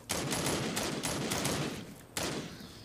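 Gunfire in the zombie shooter Into The Dead 2, a rapid string of close, loud shots in quick bursts with a brief pause before a final volley.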